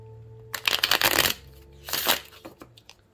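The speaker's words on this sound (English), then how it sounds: "Okay, now I'm going to shuffle." A mini deck of oracle cards, trimmed and printed on thin stock, is shuffled up close in two riffling bursts of papery flutter over a faint background hum.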